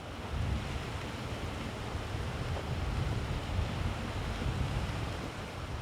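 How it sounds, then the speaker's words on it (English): Steady roar of ocean surf rolling onto a beach, a broad continuous wash with gentle swells in level, with some wind rumble on the microphone and no voices. "a day out at the beach"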